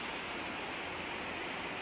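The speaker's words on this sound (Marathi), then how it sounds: "पाऊस पडतो सगळीकडे आणि एक एप्रिल आहे आज पाऊस पडतो आहे हे बघा" Steady, dense rainfall hisses evenly on surfaces nearby, a continuous wash of drops with no other sounds.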